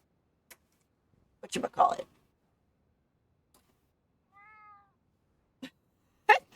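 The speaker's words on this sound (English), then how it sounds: "I can hear the cat meowing over here." A single short cat meow sounds at moderate volume amid near silence, with a few brief clicks and taps before and after.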